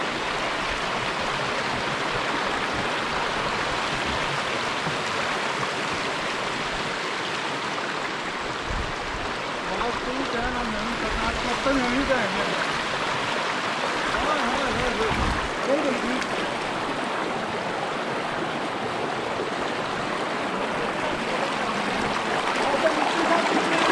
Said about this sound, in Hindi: ये पानी की तुम नेचुरल आवाज़ सुनो